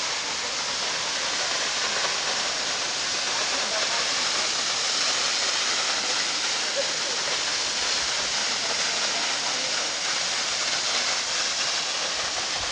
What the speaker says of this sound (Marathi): निसर्गाने नटलेला असा हा धबधबा